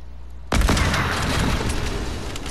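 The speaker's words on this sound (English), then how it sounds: "Now watch the fireworks go." Fireworks burst in the Fortnite video game: after a low hum, a sudden loud blast at about half a second opens into a dense, sustained crackling barrage of pops and booms that continues steadily to the end, with no talking.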